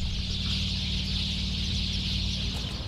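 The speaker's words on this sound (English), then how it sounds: "one of the loudest noises is the birds" Chickens and other birds cluck and call steadily at moderate volume in a town left in ruins by war, the fowl sounds carrying alone without any voices.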